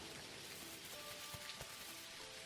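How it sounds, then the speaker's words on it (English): Rain falls in the farming game Dinkum, a faint, steady hiss of drops with a couple of soft low thumps, quiet and continuous with no voices. "The classic video game feature of rain is here."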